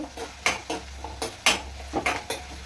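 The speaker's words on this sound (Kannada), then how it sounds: "ಫಸ್ಟ್ನೇ ಇದು ಫ್ರೈ ಆಗಲಿ. ಸೊ ಗ್ಯಾಸ್ ಜೋರು." Onions fry in a pan over a high gas flame, with quiet sizzling broken by several sharp utensil clinks and scrapes at irregular intervals, fairly faint overall.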